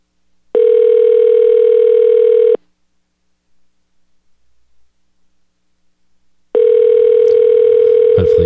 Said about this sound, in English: I'm going to just dial him up here